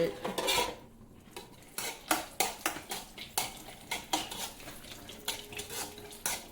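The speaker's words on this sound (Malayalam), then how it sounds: "ഇതാ അടുപ്പത്ത് പ്രഥമൻ ഇളക്കിക്കൊണ്ടിരിക്കുന്നു" A spoon stirs prathaman, a sweet Kerala pudding, in a pot on a home stove during Vishu. It clinks and scrapes against the pot in a steady run of close, sharp strokes, with no talking.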